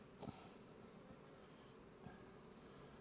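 Honey bees at an open hive make a faint, continuous low buzz, with a couple of individual bees droning briefly closer.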